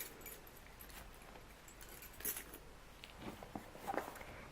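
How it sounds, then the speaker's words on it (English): Keys on a key fob jangle softly while a diaper bag is packed, with a few light metallic clinks and rattles near the end against a quiet room. "My keys are on the key fob."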